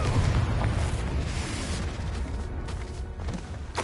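A Confringo blasting spell detonating in Hogwarts Legacy, a deep rumbling boom with a roaring, crackling tail that slowly fades over a few seconds, loud and close, no talking.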